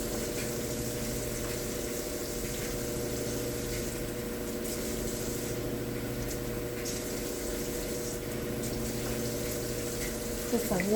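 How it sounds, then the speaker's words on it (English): Water pours steadily into a cooking pan on a home kitchen stove, a continuous hissing, running stream that lasts throughout, close and fairly loud. "Put some water up in there."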